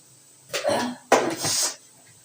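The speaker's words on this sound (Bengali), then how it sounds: "যেমন ঠান্ডা লেগেছে তেমন কাশি হচ্ছে" A woman with a cold coughs twice in close succession, two harsh, loud bursts about half a second apart, close to the mic in a quiet room.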